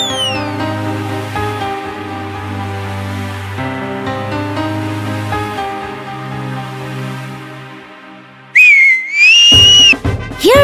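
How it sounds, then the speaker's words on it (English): A shrill whistle in an animated children's story bursts in with rising and falling pitch, loud and close, after a stretch of gentle plucked music. "Hearing his whistle"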